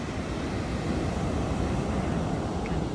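Ocean waves at Mori Point, a steady broad rush of surf mixed with wind buffeting on the microphone, loud and continuous with no talking.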